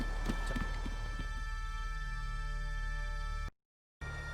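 Rhythmic clip-clop of horse hooves at a steady walk in the video game The Witcher 3: Wild Hunt, fairly close, with a faint whinny early on, then a brief cut to silence near the end.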